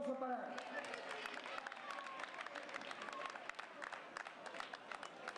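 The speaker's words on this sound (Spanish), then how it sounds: "José Carlos Ciprián Bergua, un fuerte aplauso para él." Crowd applause and scattered clapping at the finish of a night 10 km road race, a thin patter of hands at a distance beneath an announcer's voice over a loudspeaker.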